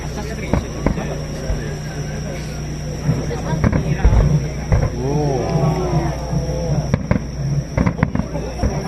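Fireworks burst at a summer festival display in Yonago, Japan, a series of booms and crackles of varying strength, with a crowd chattering and calling out throughout.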